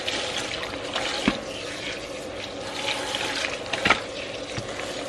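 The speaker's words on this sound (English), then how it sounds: "I'm just gonna rinse all the conditioner out" Tap water running over a wig to rinse out conditioner, a steady close faucet stream splashing in a sink, with a few sharper splashes and drips, no talking.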